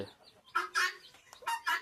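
A chicken clucks close by in a few short, throaty bursts, with quiet gaps between the calls.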